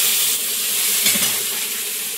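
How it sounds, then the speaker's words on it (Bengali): Steady loud sizzling and hissing of red spinach frying in hot oil in a wok, continuous and close, with a faint scrape of stirring partway through. "কড়াইয়ে তেল দিয়ে দিলাম, এবার লাল শাকটা চাপিয়ে দেবো"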